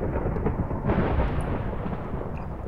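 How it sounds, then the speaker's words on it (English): Thunder in the Minecraft modpack TolkienCraft 2, a deep rumbling crack that swells near the start and rolls on loudly for several seconds without any talking. "Now we got thunder."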